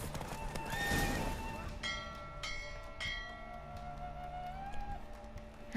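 A horse neighs during a race in The Witcher 3, followed by steady hoofbeats and bell-like chimes ringing at intervals, with a game score underneath.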